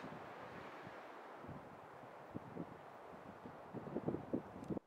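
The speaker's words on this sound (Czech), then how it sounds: "pěkně to fouká už" Gusty wind at Bryce Canyon buffets the microphone in a steady roar, with rumbling low gusts swelling louder toward the end.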